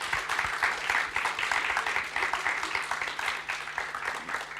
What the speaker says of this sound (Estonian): teeme veel ühe aplausi korraldustiimile